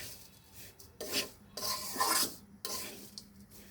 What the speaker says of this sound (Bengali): গুঁড়া দুধ দিয়ে আমি এটা আবারও নেড়ে চেড়ে মিশিয়ে নিব